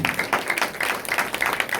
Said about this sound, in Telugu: ఉన్నానన్నవారు గట్టిగా చప్పట్లు కొట్టి దేవుని మహిమపడతాం